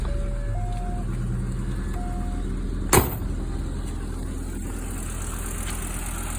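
A Volkswagen Eurovan engine starts with a brief cranking burst and then settles into a steady, close idle. A continuous low engine hum runs throughout, with no talking.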